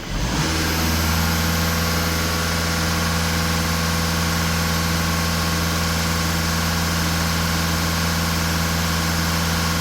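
A VW or Skoda car engine runs steadily and loudly at close range, a constant idle drone with no clear rise into revving, and no voices over it.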